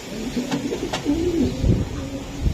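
A racing pigeon, a silver Giribaz, coos in a low repeated rolling murmur that runs steadily for a couple of seconds, close by over a constant background hiss, with a couple of faint clicks.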